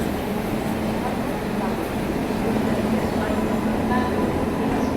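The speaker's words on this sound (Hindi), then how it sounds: "ये आ रही है अभी झांसी रेलवे स्टेशन पे अपनी मंगला एक्सप्रेस।" The Mangla Express rolls into Jhansi railway station as a steady train rumble, continuous and fairly loud with low mechanical drone throughout, set within busy platform ambience.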